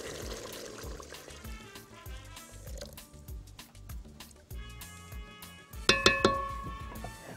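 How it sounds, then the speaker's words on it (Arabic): Water or broth is poured into a pot of cooking cauliflower with a steady trickling splash, with light clinks of metal and cookware throughout and a brief sharper clatter near the end. "هحط عليها ميه"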